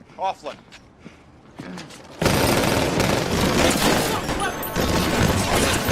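Gunfire in a film scene, a rapid sustained burst of shots close by lasting several seconds, following a few scattered footsteps and thuds, with a voice speaking over it.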